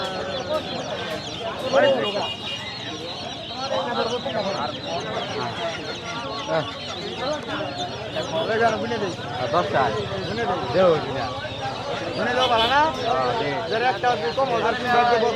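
Chickens cluck and squawk continuously among the duck and poultry stalls of a busy rural village market, Gohai bazar, with crowd voices and chatter mixed throughout.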